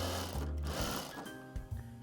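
A sewing machine stitches curtains in a curtain shop's sewing workroom, a close, steady mechanical whirr that briefly changes pace and stops and restarts.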